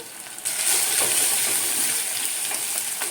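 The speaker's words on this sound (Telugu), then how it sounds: "తర్వాత వాటర్ వేసుకోవాలి" Water pours into a clay pot of frying onions and tomatoes for carrot upma. A soft hiss gives way after half a second to a loud, continuous gushing splash that holds to the end.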